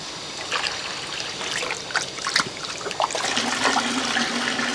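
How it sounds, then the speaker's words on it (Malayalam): Water splashes and trickles steadily over raw fish pieces being washed in a bowl, a close, continuous pouring sound with small bursts of sloshing. "വെള്ളം ഒഴിച്ചു"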